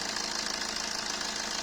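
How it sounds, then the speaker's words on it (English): A 2007 Suzuki Swift DDiS with its Fiat-sourced diesel engine idling, a faint steady rattling clatter with no talking. "Here to the clatter, guys. The diesel clatter."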